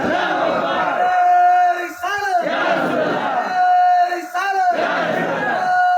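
A large crowd at a devotional gathering roars back in loud, sustained collective shouts answering a takbir call, in repeated surges separated by brief pauses.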